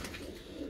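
Blue pigeons coo softly nearby, a low murmuring burble that rises briefly near the end over a quiet background.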